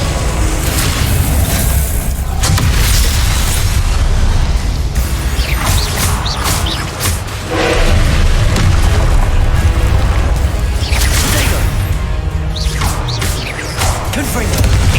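Confringo blasts and other spells go off in a Hogwarts Legacy duel, loud repeated booms, whooshes and crashing bursts in rapid succession over dense background rumble, with no voices heard.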